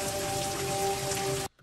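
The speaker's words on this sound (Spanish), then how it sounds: "empezó a llover y la lluvia no quiere que el chamaco sea rico" Rain falls in a steady, hissing wash that fills the short stretch, then cuts off abruptly near the end, with no voices.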